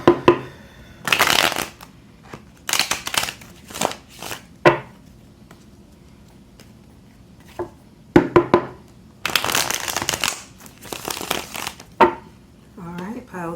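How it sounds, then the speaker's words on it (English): Tarot cards shuffled by hand for a pick-a-card reading, crisp riffling and papery bursts in repeated bouts with short pauses between, close and fairly loud. "we will be shuffling on camera"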